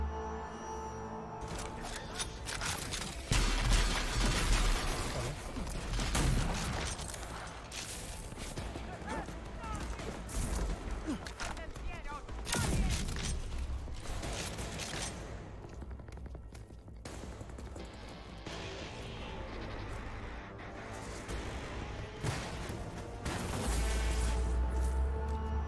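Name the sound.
explosions in a video game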